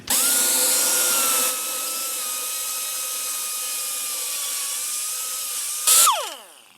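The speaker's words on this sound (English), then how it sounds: "I will now drill the bolt holes to mount the transmission mount to the cross member" A power drill whines steadily at high pitch while boring bolt holes into a metal transmission cross member, running continuously before a brief louder burst and spinning down to a stop.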